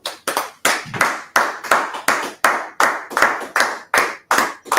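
A class audience clapping together in unison, about a dozen loud, evenly spaced claps in a steady rhythm, close and alone with no talk.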